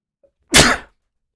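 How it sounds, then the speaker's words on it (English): A single sharp, loud, close sneeze from a man bursts out alone in an otherwise quiet room, lasting under half a second. "Oh, I'm gonna sneeze."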